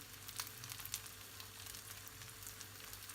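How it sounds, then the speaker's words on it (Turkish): Rice and orzo are sautéed in butter in a pot, giving a soft, steady sizzle with faint scrapes of stirring for a few seconds. "tekrar kavurmaya devam ediyorum. Tane tane olana kadar."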